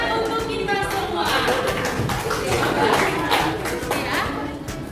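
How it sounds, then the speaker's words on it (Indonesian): Schoolchildren in a classroom clap for a prize winner, a busy patter of small hands that runs throughout while a teacher and the children talk over it. "Tepuk tangan untuk kita semua."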